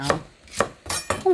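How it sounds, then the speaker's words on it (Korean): A knife chops Korean cheongyang chili peppers sharply on a cutting board, four crisp evenly spaced strikes close by, with no voices. "청양고추를 썰어주세요."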